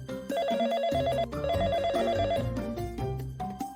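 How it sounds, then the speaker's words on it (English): A telephone bell rings in an animated story, a bright repeating electronic trill in several quick bursts, clear and alone with no talk. "my phone began to ring"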